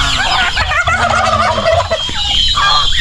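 Several turkeys gobble loudly and repeatedly, their rapid warbling calls overlapping close by throughout.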